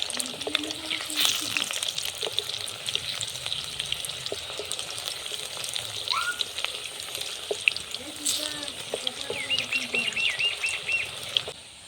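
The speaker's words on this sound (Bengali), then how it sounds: "পকোড়াটা একদিক ভাজা হয়ে গেছে, এবার আমি অন্য পিঠটা উল্টিয়ে নেব।" Banana flower pakoras fry in hot oil with a steady, dense sizzle and crackle that lasts throughout, while faint bird calls chirp in the background.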